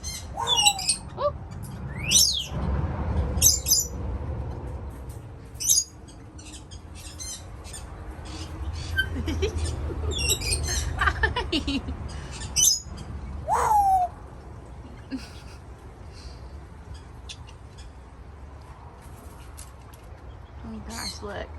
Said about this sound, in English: There is a toucan in here.